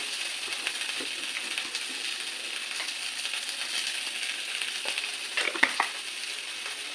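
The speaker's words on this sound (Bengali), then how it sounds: "আরেকটু একটু ভালো করে ভাজাটা ভাজা করে নেবো রসুনের সেন্টটাও খুব ভালো যখন হবে" Garlic fries in a pan for a prawn and banana-flower ghonto, making a steady soft sizzle close by, with occasional faint clicks of stirring and no talking.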